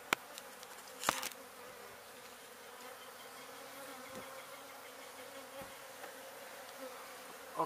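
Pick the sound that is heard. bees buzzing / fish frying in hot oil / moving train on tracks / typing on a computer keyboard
bees buzzing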